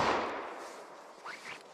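A .38 Special +P Hornady Critical Defense round fired into plain clear ballistics gel, a single sharp report at the start that decays into a fading reverberant tail, followed by faint scattered clinks.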